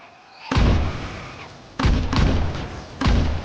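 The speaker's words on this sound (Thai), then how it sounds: "แล้วเอาปืนระเบิดออกมาใช้ก่อน" Explosive gun in the Roblox game Zombie Uprising fires three heavy booming blasts, spaced about a second and a quarter apart, each a loud thud with a crackling tail.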